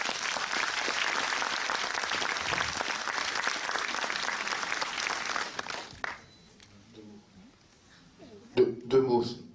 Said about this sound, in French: un tonnerre d'applaudissements pour Alain Jeanne